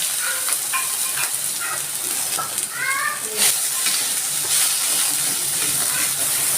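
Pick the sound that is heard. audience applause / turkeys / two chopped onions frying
two chopped onions frying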